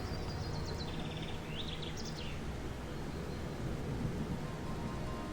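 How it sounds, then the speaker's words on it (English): Rumbling thunder in a stormy scene of the video game Gothic 2, a continuous low roll with a few high bird chirps near the start, no voices. "It's like this thunder."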